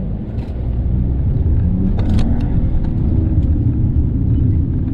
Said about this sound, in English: I'm going to go into the sport mode, and I'm going to show you the acceleration over here.